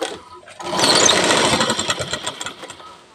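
A sewing machine stitches along the edge of blouse fabric while a hook strip is being made, starting after a short quiet moment and then running as a steady, fairly loud mechanical whir with a fast rhythmic chatter.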